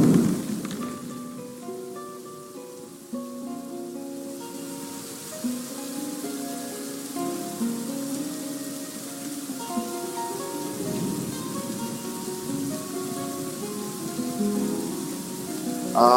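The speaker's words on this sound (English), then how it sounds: "Oh, that rain noise is so good." Steady rain from the video game Dwarf Fortress, a soft continuous patter that runs the whole stretch at moderate level, layered with gentle sustained in-game music tones.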